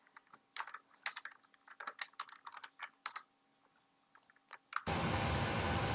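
Computer keyboard keys tapped in irregular bursts, nearby and moderately quiet, with brief gaps between the clicks, followed by a sudden loud, steady rush of noise that fills the last second.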